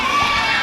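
A wrestling crowd cheers and shouts in a dense, steady roar, loud and sustained over a brief moment with no clear commentary on top.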